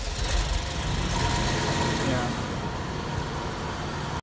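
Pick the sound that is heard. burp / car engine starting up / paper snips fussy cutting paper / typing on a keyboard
car engine starting up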